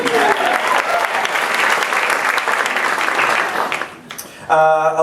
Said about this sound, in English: Yeah, sure, we can applaud that, sure.